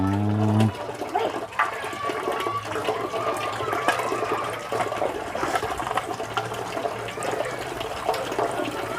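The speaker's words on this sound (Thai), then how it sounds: "น้ำไหลแล้วน้ำเนาะ" Water runs steadily from a tap while washing dishes at home, a continuous splashing stream close by with clinks and a person talking over it.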